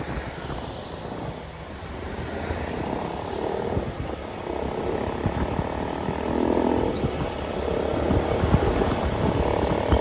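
A motorbike with a loud, worn dragging clutch runs continuously nearby, its engine giving a droning, propeller-like hum that swells and eases slightly as it rides on.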